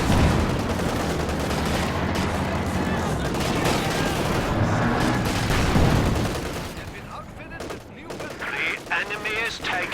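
Dense gunfire rattles through a competitive World War II-style video game battle, with bursts of machine-gun fire and heavier booms overlapping nearly continuously before thinning into scattered shots, under a commentator's voice.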